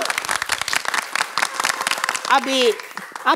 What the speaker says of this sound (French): j'aimerais qu'on applaudisse bien fort Sam Amigan